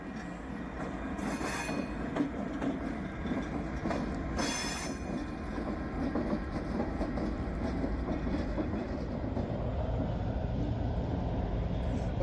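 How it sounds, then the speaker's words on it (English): A train rolls steadily through the BNSF rail yard at Pasco, a continuous loud rumble of wheels on track with high metallic squeals rising twice near the start. "I love trains."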